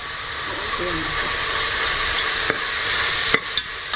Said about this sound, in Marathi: नेक्स्ट कांदो हांगा आल्ले आनी लसूण चॉप केलेला ते घाल का